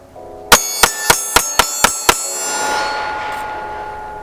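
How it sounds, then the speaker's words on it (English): Seven sharp, evenly spaced reports ring out in quick succession from a Smith & Wesson M&P Shield 4-inch 9mm pistol emptying its magazine, each crack leaving a bright metallic ring that fades after the last shot. "Gotta be a mag dump."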